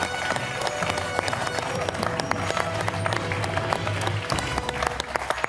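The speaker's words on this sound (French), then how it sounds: "Richard applaudit Bernard." Applause on a television game show as one contestant claps for another, dense clapping and crowd noise over a busy background with sharp claps standing out, steady and fairly loud throughout.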